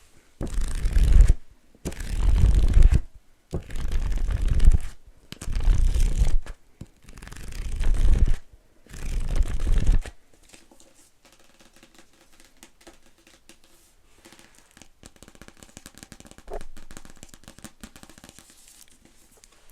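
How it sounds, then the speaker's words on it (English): Pages turn in a series of about five papery swishes at a steady pace, close up, followed by a quieter stretch of faint handling noise. "Just some page turning sounds."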